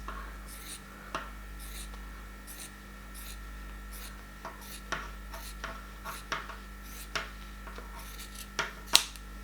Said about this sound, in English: you then from your edge point just cut straight across